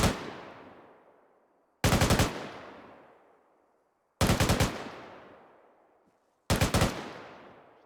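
Rifle and machine gun fire during squad training in the Squad video game, four separate loud bursts of rapid shots, each ringing out and decaying over a couple of seconds, close and with no voices.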